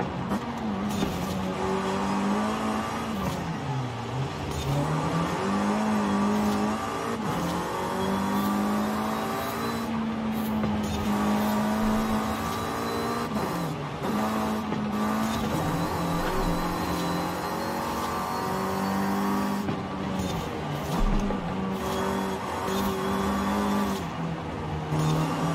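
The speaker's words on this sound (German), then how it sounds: "Das war ja fast alles im Querdrift." In Forza Horizon 5, a car drifts sideways through a street scene in Guanajuato. Its engine holds a steady, loud drone with shifting pitch for the whole stretch, and no clear tire squeal stands out.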